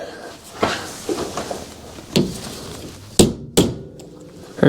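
A hammer strikes a breaker bar while loosening a stuck part on a Yamaha Kodiak 450 ATV, with several sharp metallic knocks at irregular intervals and quieter clatter between them.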